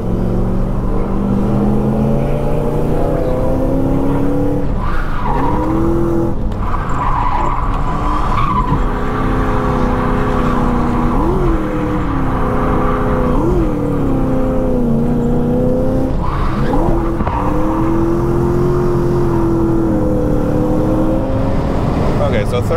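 A Lexus IS200 fitted with a 1UZ V8 drifts on a track, its engine roaring loud and close as revs rise and fall, with tires squealing through the slides. No talking.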